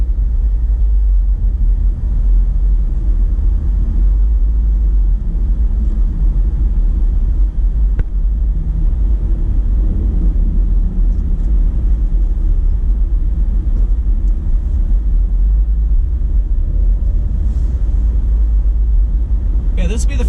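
Car driving through the Squirrel Hill Tunnel on I-376 West in Pittsburgh, a loud, steady low road rumble with brief swells as traffic passes, heavy and continuous throughout.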